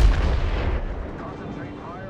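A naval big gun fires in the World of Warships video game, aboard the battleship Yamato: one heavy booming blast that rolls away into a long, fading rumble.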